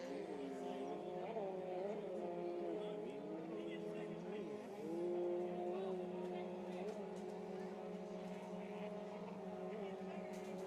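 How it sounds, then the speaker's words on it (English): Two-stroke modified jet ski engines race at a Paris, Texas event, a steady high droning whine with rising and falling pitch sweeps as skis pass, heard at a distance under a commentator's voice. "to hear the mix of the different engines out there"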